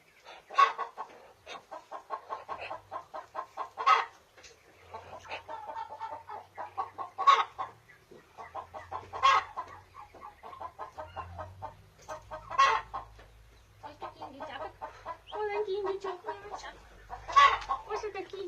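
Hens clucking in a Ukrainian farmyard where newborn turkey chicks have hatched, a steady run of rhythmic clucks and occasional louder squawks with chick peeps mixed in, a voice talking softly underneath at times.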